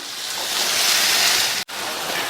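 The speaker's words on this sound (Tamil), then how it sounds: "அது வரைக்கும் மீடியம் ஃப்ளேம்ல வச்சு ஒரு 3ல இருந்து 4 நிமிஷத்துக்கு வதக்கிக்கலாம்." Mushrooms sautéing in a pan over a medium flame, a steady broad hiss and sizzle throughout with a brief dropout near the end.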